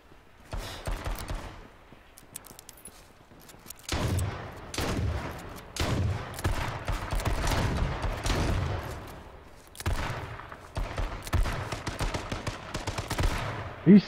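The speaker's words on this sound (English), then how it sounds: "Hide! Hide, they're shooting at us!" Rapid bursts of gunfire crackle through a multiplayer shooter match, coming in dense clustered volleys with short lulls between them and a sharp loud crack near the end.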